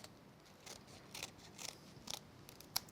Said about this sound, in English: I'm just going to go around very carefully with my scissors, keeping them at an angle so I don't cut into the die above it